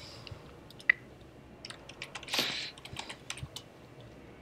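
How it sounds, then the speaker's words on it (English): Typing on a computer keyboard in the background, quiet irregular key clicks and taps scattered over a few seconds with one louder rustle in the middle, no talking. "Typing in the background here."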